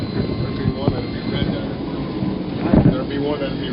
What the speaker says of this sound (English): listening to some of the sounds of Amtrak as we head westward